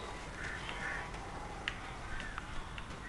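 Several crows cawing in the video game Alan Wake, scattered faint caws and clicks over a continuous noisy wind-like background, distant and without talk.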